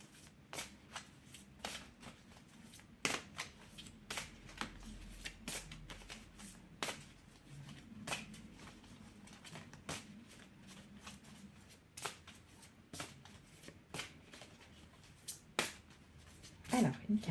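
Oracle cards are shuffled by hand in a quiet room, giving repeated soft riffling and tapping sounds at an irregular rhythm, with a voice speaking faintly in the background.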